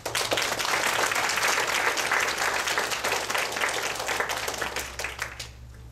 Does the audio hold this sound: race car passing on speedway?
no